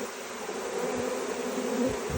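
Honey bees buzzing at an open hive, heard from very close, with a steady, soft drone and a few louder individual bees passing near.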